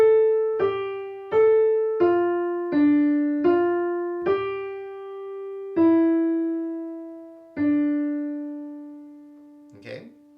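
A lone piano plays a melody line as a slow sequence of single notes, each struck clearly and left to ring and decay, ending with a faint noise.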